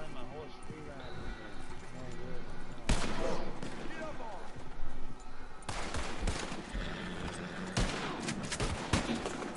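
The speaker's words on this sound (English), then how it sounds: "Shooting up the whole town of Van Horn." Video game gunfire as the town of Van Horn gets shot up, with repeated sharp shots and bursts scattered across the stretch over a busy background, a voice talking beneath.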